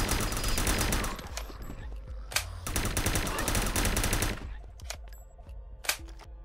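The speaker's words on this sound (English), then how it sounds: "Keep shooting. Don't stop." Rapid automatic gunfire in The Last Stand: Union City zombie shooter game, long dense bursts broken by brief pauses and a few single sharp shots near the end, loud and close with no talking.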